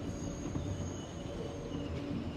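A New York City 7 subway train rides across Queens with a steady, dense rumble of wheels on rails and a faint high squeal running through it, continuous and without talk.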